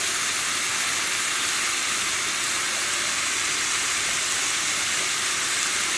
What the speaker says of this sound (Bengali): হলুদ লবণ মাখিয়ে শাকটা একটু ভেজে নেব